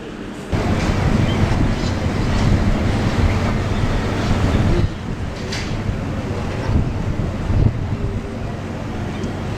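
Broad, steady wash of seawater surging beneath a dock along a harbour wall, a continuous churning rush with wind buffeting the microphone and brief swells in loudness.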